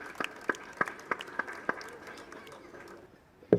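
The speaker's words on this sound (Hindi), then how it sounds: "तालियों से एक बार मैम का स्वागत कर दें." A school annual-function audience gives a few scattered handclaps to welcome the principal on stage, about seven sharp isolated claps over a couple of seconds that thin out into quiet room noise.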